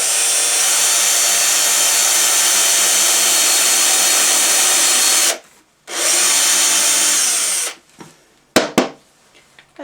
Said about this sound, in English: So that's all of them drilled now. I went through with a 3mm drill.